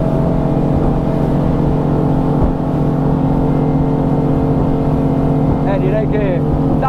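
Honda BF 350 V8 outboard motor running at 5300 rpm on a single-engine Idea Marine 80 boat at sea, a steady loud engine drone with harmonic tones under wind and hull noise, voices talking briefly over it.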